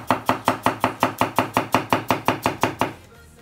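A Mercer Culinary 8-inch Chinese chef's knife chopping food on a board, about fourteen crisp, evenly spaced chops in quick steady rhythm, close and loud, then stopping abruptly.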